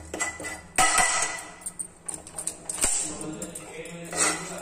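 Coriander powder and other spices being roasted in a pan and stirred, with an irregular run of close metallic clinks and scrapes from the utensil against the pan, with no talking.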